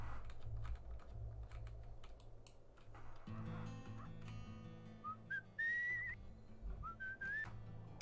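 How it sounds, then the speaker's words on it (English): Melodic whistling from a character in the video game Where the Water Tastes Like Wine, a few short rising tones over steady game music and ambient background, fairly clear in the mix. "No, I can just whistle."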